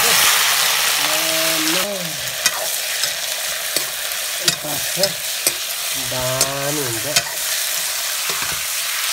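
Chicken meat for a village-style curry hisses loudly in a hot pan while being stirred, with sharp scraping clicks of the spoon recurring under a voice talking intermittently.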